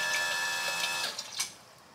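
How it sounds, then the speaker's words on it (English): Factory fuel pump on a 6.0 LS engine priming a dry fuel line, a steady whirring buzz that runs for about a second, then stops with a couple of faint clicks and gurgles, close up and alone. "when you have these things fresh and dry, you're gonna have to cycle the pump a few times till it starts pumping"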